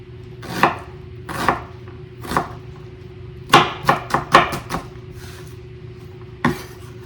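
Knife chopping cabbage on a cutting board for stuffed cabbage: a few spaced single strokes, then a quick cluster of five or six chops and one last cut, crisp and close over a faint steady hum.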